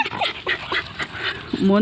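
A female dog in labour whimpering and yelping in short, high, strained cries that rise and break, close by and loud, with a person talking alongside.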